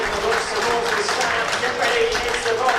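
Crowd of Worcestershire supporters clapping and cheering at a cold T20 Blast cricket match against Glamorgan, a steady dense wash of applause lasting throughout, mixed with commentary voices.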